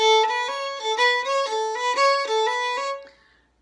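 Fiddle playing a tune section in short, hard down-bow chops with accents, a steady run of punchy bowed notes, close and clear, ending with a brief ring-out.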